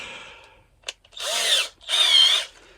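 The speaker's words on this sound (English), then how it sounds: "I'm doing it with a drill, or with a hand drill, so it's a little bit slower turning." A hand-held drill turning fairly slowly cuts through light plastic and plywood in two short, close, buzzing bursts, preceded by a brief click.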